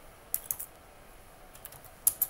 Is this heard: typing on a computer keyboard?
yes